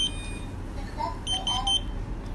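A 7612 RFID access control device gives a short series of electronic beeps during a factory reset, bright tones sounding over a low background hum.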